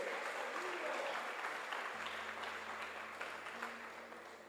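Congregation applauding during a church service, a broad, steady rush of clapping heard at a distance under a low sustained organ-like hum, gradually fading toward the end.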